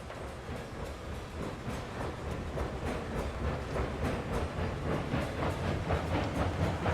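A twelve-car train with a caboose rolls steadily along the line, its wheels giving a continuous rumbling clatter with regular clicking beats, moderately loud and unbroken throughout, with no voices.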